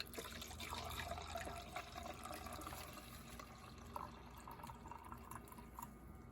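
Wine pours in a generous stream into a glass in a camper van kitchen, a faint liquid gurgle and trickle with a few small drips, heard alone and fairly close.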